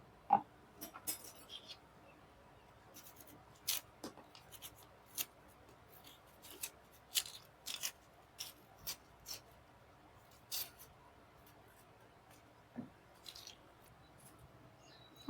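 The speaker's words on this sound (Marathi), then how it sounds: "आता एक हा कांदा कापून घेऊ बारीक बारीक" A knife finely chopping an onion on a board for a capsicum bhaji, giving quiet, irregular sharp taps and cuts spaced through a near-silent kitchen background.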